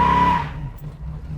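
A 1970 Ford Maverick revs hard and spins its tires loose in a driveway, a short burst of engine roar with a squealing edge that quickly drops to a lower rumble.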